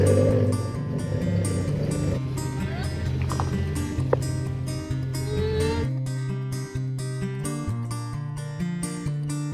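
A Ford Mk2 Escort engine idles loud and rough, a deep, uneven drone that carries throughout while people talk over it.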